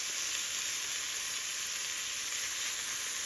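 Miso and black bean mixture sizzles steadily in a hot pan while being stirred, a constant close frying hiss with no pauses and no voices.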